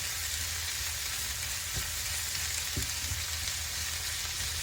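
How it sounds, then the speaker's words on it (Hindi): Masala karela, sliced bitter gourd, frying in a pan with a steady soft sizzle throughout, broken by a couple of brief stirring knocks near the start and middle. "बस इसको अब हमने फ्राई करना है, बस ऐसे चलाते रहना है।"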